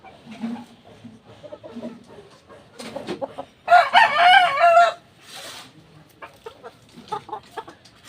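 A rooster crows loudly and close by, one drawn-out call rising and falling, with softer clucking and faint background noise before and after.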